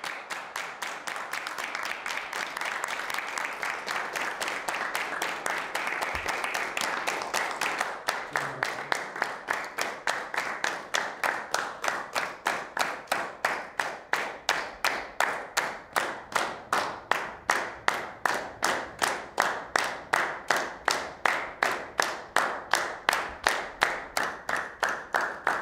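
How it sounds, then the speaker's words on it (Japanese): A large group claps in unison, starting slow and steadily quickening into a dense, even beat of sharp hand claps that keeps accelerating toward the end. "手拍子のリズムはゆっくりと始まり、スピードを上げ、やがて終わりが来る"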